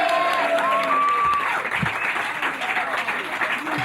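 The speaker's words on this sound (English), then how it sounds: "Let's have a nice round of applause for my fine director, Jeff Bingham, everybody." Studio crew applauding during a 1990 television broadcast: scattered clapping from a small group under a voice, with light cheering, steady for about four seconds.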